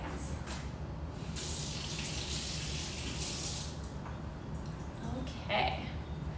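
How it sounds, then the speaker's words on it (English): Hands rinsed under a running kitchen tap while baking dark chocolate brownies: a continuous rush of water for a few seconds, then tapering off, with a voice speaking nearby. "I'm just gonna rinse off my hands."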